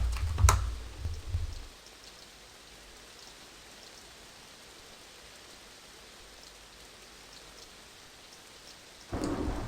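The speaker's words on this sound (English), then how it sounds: "it's raining" Rumbling thunder at the start fades into steady soft rainfall in a building video game, with another thunder roll rising at the end.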